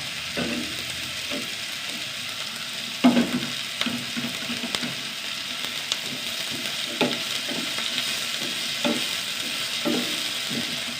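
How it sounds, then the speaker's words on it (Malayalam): Onions sauté in a hot pan, with a steady sizzle broken by repeated scraping strokes of a spoon stirring every second or two, close up and with no talking. "നന്നായി വഴറ്റട്ടെ നന്നായി വഴറ്റട്ടെ ചെറുതായിട്ട് സവാളയൊക്കെ വാടി വന്നു"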